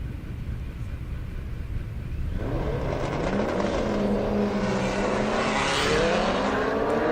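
Corvette and Mustang drag racing on a half-mile airstrip: at first a steady noise, then an engine swells in and holds a loud, rising roar that builds as the car nears.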